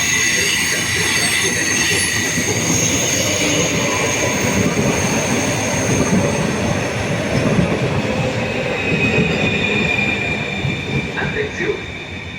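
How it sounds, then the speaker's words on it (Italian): A train runs through a platform at Padova station in the evening, a loud continuous rumble of wheels on rail with high, sustained squealing tones above it, holding steady before easing slightly near the end. "Treno in transito al binario 1"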